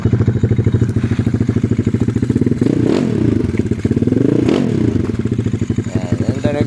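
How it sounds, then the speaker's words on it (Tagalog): A modified Yamaha Mio Sporty scooter with a 232cc four-valve liquid-cooled engine revs up and down close by, with a loud, raspy, rough, popping open-exhaust rattle and a couple of sharp throttle blips. "yung tunog niya malayong malayo sa mga ordinary na Mio"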